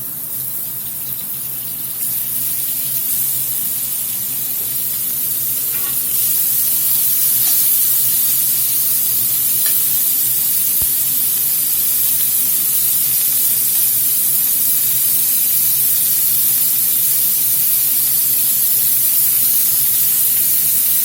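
Beef pieces sizzle loudly in hot high-smoke-point oil in a large skillet, a steady, dense hiss that swells slightly after the first few seconds and holds for about twenty seconds with no talking.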